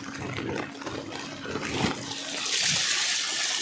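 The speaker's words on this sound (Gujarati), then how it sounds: "ઘણું પાણી નીકળે છે." A large amount of water drains out in a steady rush that swells louder and brighter toward the end, alone and close by.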